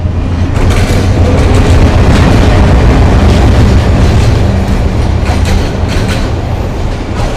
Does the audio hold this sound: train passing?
yes